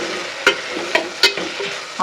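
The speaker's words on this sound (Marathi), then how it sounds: "आता हे मिश्रण बघा सगळं मी आधी मिक्स करून घेते." A spice mixture with garlic masala and kala masala is stirred in a pan over a steady background sizzle, with a spoon scraping or tapping about four times at irregular intervals.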